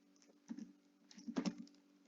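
Keys on a computer keyboard click faintly while code is typed, a few soft taps followed by a quick cluster of clicks, quiet and close with a low hum underneath.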